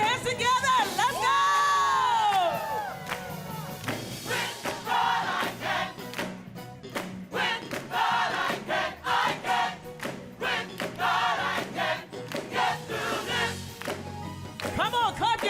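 A large crowd at a Martin Luther King Jr. birthday celebration in Tacoma cheers, whoops and claps, with loud sustained shouting at the start and steady rhythmic clapping mixed with voices throughout.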